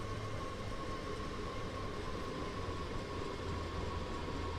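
Train running in the Train Sim World 3 simulator on a German route, a steady continuous rolling rumble with a faint sustained tone above it, alone with no talk.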